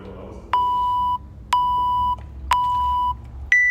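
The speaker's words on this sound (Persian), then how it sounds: "دارم تایمر میزنم." Digital countdown timer beeping when its time runs out: three loud sustained electronic tones about a second apart, then a fourth starting at a slightly higher pitch, over faint background noise.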